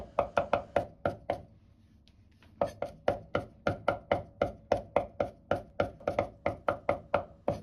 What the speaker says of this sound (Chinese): 大蒜稍微多一點，先拍破再剁碎，這個一定要剁細點